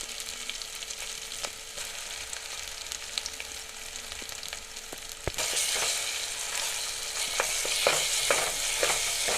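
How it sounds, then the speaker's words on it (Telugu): Ginger garlic paste hits hot oil over fried onions and green chillies for bagara rice, giving a steady close sizzle that grows louder and brighter partway through, with light stirring clicks and scrapes. "ఇప్పుడు ఇందులోకి 1 స్పూన్ అల్లం వెల్లుల్లి పేస్ట్ వేసుకుంటున్నాను."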